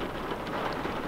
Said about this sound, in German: Regnet ganz schön.